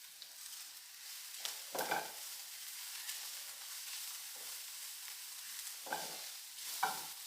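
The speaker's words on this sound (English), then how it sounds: "Saute it." Turmeric, garam masala and cumin powder sauté in a pan for prawn chops, a soft steady frying hiss broken by a few louder stirring scrapes.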